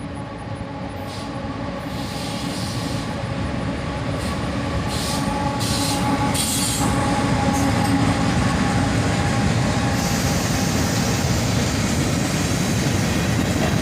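A freight train led by an AC44CW and an ES40DC locomotive rolls past close by, giving a loud, continuous rumble and wheel noise with faint squeals that builds slightly and never lets up.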